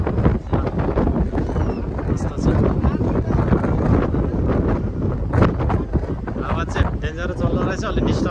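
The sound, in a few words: wind blowing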